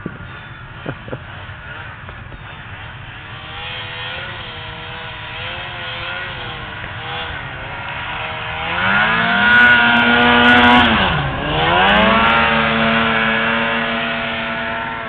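A Ski-Doo MXZ snowmobile trenches through deep snow, its engine droning steadily and close before climbing into a loud, sustained rev, then easing back to a lower drone.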